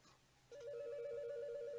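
A telephone in a video game starts ringing with a steady, fairly faint electronic tone after a brief pause, holding on continuously.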